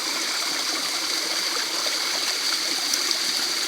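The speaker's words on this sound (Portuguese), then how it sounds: "A água desce por aqui, essa fenda." Water trickles down a rock crevice at a waterfall during a dry spell with little flow, a steady close hiss and wash of running water with no voices.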